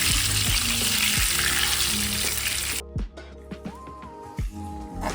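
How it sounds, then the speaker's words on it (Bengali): Potatoes coated in turmeric and salt fry in hot oil, giving a loud, continuous sizzle. Partway through it stops, leaving quieter scattered clinks and scraping. "এখন আমরা মাংসের জন্য আলুটাকে হলুদ লবণ দিয়ে মেখে আলুটাকে ভেজে উঠিয়ে দিব"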